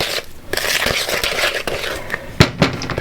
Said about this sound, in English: let me just stir that